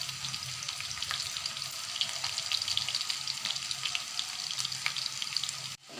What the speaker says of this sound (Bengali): আমি কলাটা কিভাবে ভেজে নিচ্ছি। একদিকে হয়ে গেলে আরেক দিকে এভাবে উল্টে উল্টে দিচ্ছি।